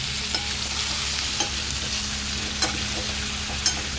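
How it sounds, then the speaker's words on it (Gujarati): Potato curry with stuffed eggplant is stirred in a hot pan, a continuous sizzle with a few soft scraping taps from the spoon. "બટેટા સરસ રીતે હલાવી લઈએ."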